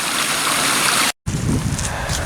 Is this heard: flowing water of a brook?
yes